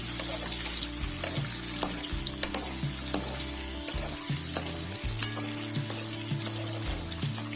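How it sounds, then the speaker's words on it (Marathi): Eggs fry and get stirred in a hot pan with turmeric and red chili powder, a steady close sizzle with soft scraping stirs throughout and no talk. "त्यामध्ये थोडीशी हळद, थोडंसं लाल तिखट हे टाकून चांगल्या प्रकारे परतून घेऊ."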